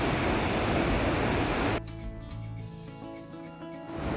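A waterfall near Walton Lake in Alberta roars as a steady broadband rush, then drops abruptly to a quieter, more distant wash of falling water with a faint hum.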